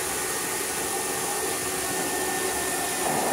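A Hitachi CV-50D upright vacuum cleaner motor runs with a steady, loud broadband whoosh and whine, held constant with no breaks and no voices over it.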